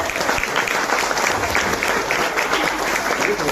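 Wedding guests applaud the couple with loud, dense, continuous clapping from a crowd that keeps up a steady roar throughout.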